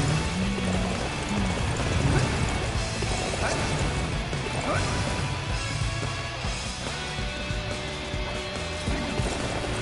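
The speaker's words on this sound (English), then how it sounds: "Now my horse is lagging" Rapid clip-clop of horse hooves in the video game Dynasty Warriors 9 runs continuously over a busy, noisy game soundscape with crashes and clatter.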